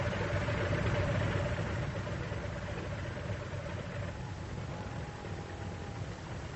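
The engine of a military vehicle drones continuously in an old archive recording, a steady low rumble with a faint whining tone and slight crackle, no voices heard.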